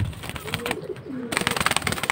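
High-flying Giribaz pigeons at a pigeon market give soft, low cooing amid clattering, rustling market noise, with a brief quieter spell before the bustle picks up again.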